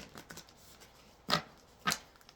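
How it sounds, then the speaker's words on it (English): Oracle cards are shuffled by hand at a quiet table, with a few soft riffles followed by two sharp, louder bursts of cards snapping together, close and alone without talk. "These are hard to shuffle."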